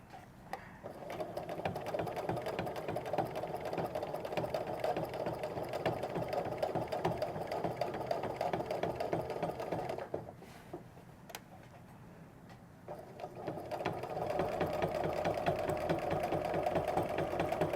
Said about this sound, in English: If you can listen, it sounds really steady right now.